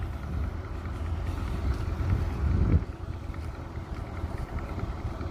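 Tractor engine idling to warm up before driving a cabbage harvester machine in a field in Germany, a steady low rumble with wind buffeting the microphone.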